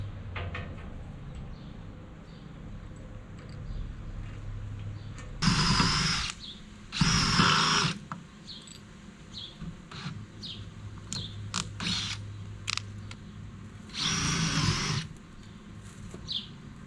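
A power drill bores into the metal of a piano harp in three loud, whining bursts of a second or so each, separated by a quieter hum and faint clicks.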